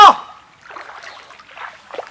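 A sharp splash marks someone jumping into water, followed by a couple of seconds of softer sloshing and dribbling close by.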